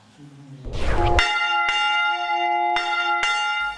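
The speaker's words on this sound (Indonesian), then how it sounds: "Tak lama berselang, lonceng di sebuah gereja pun mulai bergema." A church bell in Cigugur rings out in the morning, several ringing strikes with long sustained tones that decay between hits, clear and fairly close, preceded by a brief rumble.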